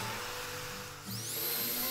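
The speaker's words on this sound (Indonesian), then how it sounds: "selanjutnya kita bor kayu ini. Ini adalah kayu jati Belanda dengan tebalnya sekitar 2 cm." A Doliz BA632 electric drill bores into about 2 cm thick Dutch teak wood, a steady motor whine rising in pitch as it spins up, with rough grinding of the bit, close and loud.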